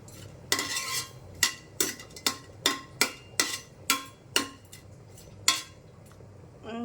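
Dried fish dry-roasted and stirred in a hot pan, a spatula striking the metal in about a dozen sharp, evenly spaced scraping clanks, close and alone.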